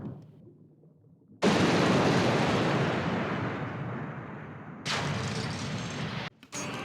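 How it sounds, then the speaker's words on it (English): King Fin, the first boss in Super Mario Galaxy, bursts apart in a loud roaring explosion that begins after a low rumble, slowly fades, then returns in a second blast and a final short burst. "Land a few more hits with his shells and King Fin will eventually fall apart and then explode"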